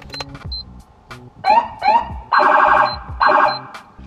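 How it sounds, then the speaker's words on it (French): Loud electronic siren wails and warbling tones sound in separate bursts, some overlapping, close and piercing, with short pauses between them. "s'il met ses 3 sirènes, t'as l'impression qu'il y a 3 voitures de police qui sont derrière toi"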